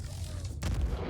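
An S9 torpedo launches in a naval combat game with a dull, low boom that rises abruptly and rumbles on briefly through a steady background hum.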